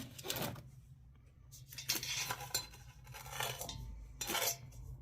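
A spoon scooping a level spoonful of powder for homemade black gunpowder, heard as close metallic scraping and clinking in several short bursts against a quiet background.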